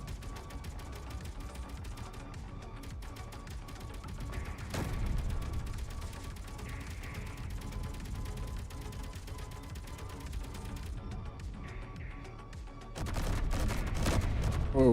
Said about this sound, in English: Oh, look at all the gunfire.